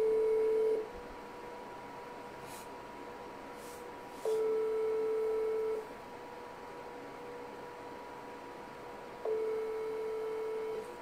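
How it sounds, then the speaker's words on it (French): A phone call rings out unanswered: a steady ringback tone sounds in three long bursts spaced a few seconds apart over faint background hiss, with no talking. "La personne ne décroche pas."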